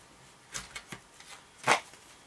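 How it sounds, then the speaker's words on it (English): Romance Angels Oracle cards being shuffled in a few quick riffling bursts, with a louder, fuller riffle near the end; close and fairly quiet, no talking. "I'm going to shuffle my Romance Angels Oracle cards"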